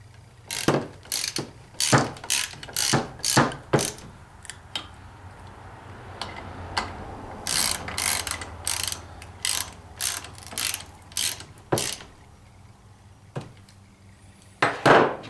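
Ratchet with a 3/8 deep well socket tightening a nut on a GM starter during drive gear replacement, giving repeated close, crisp clicking bursts in rapid runs with brief pauses between.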